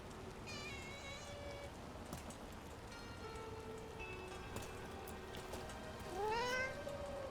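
A cat meows repeatedly in the fantasy video game Dragon Age: The Veilguard, several drawn-out meows over steady rain, with a louder rising meow near the end.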